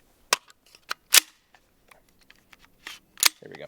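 A few sharp gunshots from a Sig Rattler fitted with a Sandman-K suppressor and firing supersonic rounds, short cracks spaced irregularly with quiet gaps between them.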